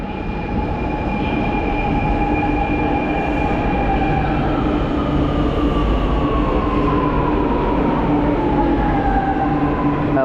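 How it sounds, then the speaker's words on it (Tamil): A Chennai metro train rolls into the station with a loud, steady roar, its electric motor whine sliding downward in pitch as it slows. "நாங்கள் போக வேண்டிய மெட்ரோ வருது"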